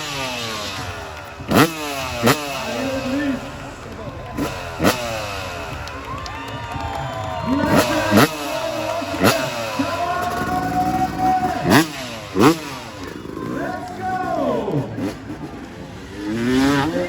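A two-stroke Montesa trials motorcycle revs at an outdoor festival show, with sharp throttle blips and rising, falling engine whines repeating over crowd noise and cheers.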